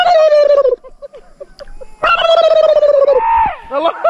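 A person imitates a turkey gobble with loud, warbling, descending calls in two bursts separated by a brief pause, ending in a higher trill, during a casual fishing outing among friends.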